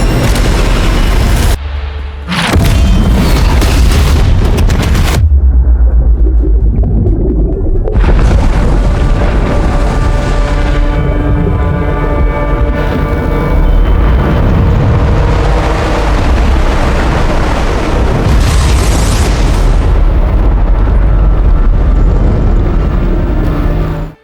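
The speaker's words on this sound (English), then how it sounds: "the second wave of bombs hit the cave" Bombs explode on a cave in a jungle combat film. Heavy booming blasts come in waves, with sustained loud rumbling and roaring debris between them, and the sound stays dense and powerful the whole way through.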